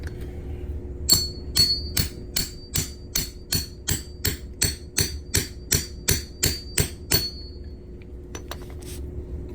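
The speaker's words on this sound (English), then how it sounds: "we got the stretcher on top. And we're just going to hammer it down." Sharp metallic hammer strikes on a Missouri state quarter set on a ring stretcher ring out in a steady rhythm, about sixteen evenly spaced blows with a bright clink, close and clear, then a few faint taps.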